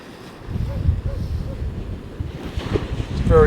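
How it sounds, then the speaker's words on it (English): Storm-driven waves crash and churn along Gorleston beach in high winds, a steady roaring wash of surf with heavy gusts buffeting the microphone and a few distant faint calls over the noise. "Don't know if you can actually hear the waves smashing down on each other. They're very loud."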